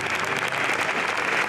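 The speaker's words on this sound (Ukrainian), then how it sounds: "Бурхливими оплесками шанувальники кіно зустрічали знімальну групу фільму «Аннет»" Enthusiastic applause from film fans greeting a film crew at the Cannes Film Festival, dense, steady clapping at close range throughout, with no voices standing out.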